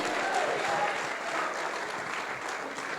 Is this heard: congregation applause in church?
yes